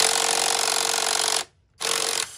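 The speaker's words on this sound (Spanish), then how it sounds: "Aflojamos todos los tornillos." A power tool whirs steadily while loosening intake manifold bolts on a 3.5 Ford Taurus, running loud and continuous, then cutting out briefly before spinning up again; no one speaks.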